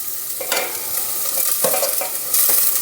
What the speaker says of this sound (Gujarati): ડુંગળી થોડીક સંતરાય પછી હું કેપ્સિકમ નાખું હવે આ કેપ્સિકમ નાખી દો